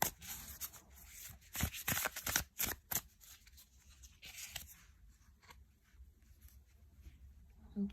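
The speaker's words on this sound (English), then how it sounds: "Let's pick out some cards from this deck as well." Tarot cards are pulled from a deck, making a cluster of quick, crisp slides and snaps close by, followed by quieter faint rustling and handling.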